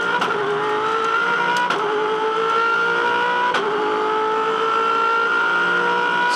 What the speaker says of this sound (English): listen to a great lap around this racetrack.